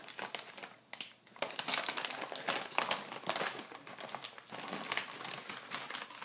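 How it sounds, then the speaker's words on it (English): A snack bag being ripped open along its edge, a run of crisp crinkling and tearing bursts of plastic packaging close by, with no talk. "We'll definitely rip on the little edge."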